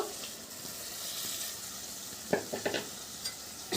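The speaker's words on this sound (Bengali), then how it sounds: "দিয়ে একটু ভালো করে নাড়াচাড়া করে নেব" Fried pointed gourd goes into a spiced gravy of cumin and coriander in a pan, a soft low bubbling sizzle with a few sharp scrapes and knocks of the spoon toward the end.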